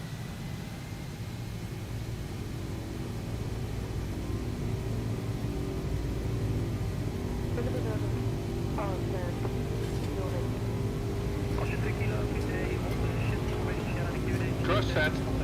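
Jet engines of a Felis Boeing 747-200 in X-Plane 12 hold a steady, loud roar with a low rumble on the takeoff roll, while someone talks over the noise.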